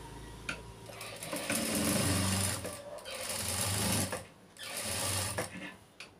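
A sewing machine stitches lining onto a boat neck blouse in bursts of rapid mechanical whirring, each run lasting a second or two and separated by brief pauses, close and clear with no talk.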